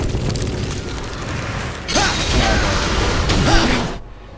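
A Heimerdinger rocket explodes in League of Legends, set in loud, rumbling game blasts with whooshing bursts that sustain for several seconds before cutting off abruptly.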